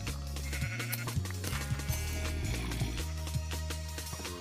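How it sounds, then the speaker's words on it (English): Sheep bleat in a Minecraft speedrun, several short video-game bleats popping up over steady background game music with no voices. "there's tons of sheep"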